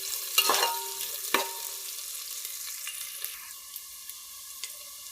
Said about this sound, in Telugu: ఆనియన్స్ ఫ్రై చేయండి